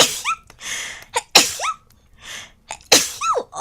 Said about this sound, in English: Hold on, I gotta sneeze